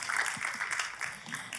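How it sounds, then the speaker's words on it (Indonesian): A church congregation claps in a loose, moderate burst of applause, steady through the short stretch with some voice mixed in. "Tepuk tangannya sekali lagi bagi Yesus Tuhan."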